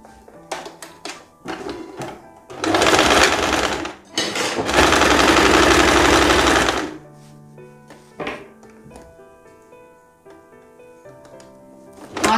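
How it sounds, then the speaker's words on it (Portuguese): A sewing machine stitches a straight seam on a blouse in two long, loud, steady buzzing runs, separated by brief pauses and framed by quieter clicks and handling noises. "eu vou vir e vou passar uma costura reta"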